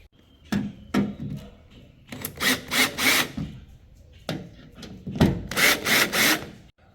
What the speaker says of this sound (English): So you can see in the back there are 2, 4, 6, 8 screws that we're going to remove.